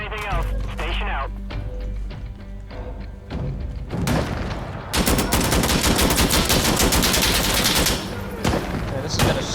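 Dense automatic gunfire and heavy thumps fill a night raid in the shooter game Insurgency Sandstorm, loud sustained bursts rolling over radio chatter and players' voices.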